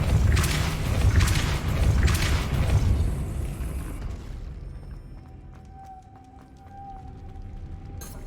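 Depulso spell cast in the video game Hogwarts Legacy, giving a few loud, booming magical bursts over the first half, then fading into quieter game ambience with faint tonal chimes.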